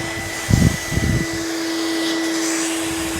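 A vacuum cleaner hoovers up router dust from cutting a soffit, a steady close whining drone with a couple of louder rough sucking bursts near the start.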